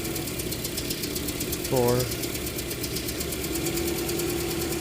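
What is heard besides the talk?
Toyota Matrix engine idling rough with one cylinder's injector disabled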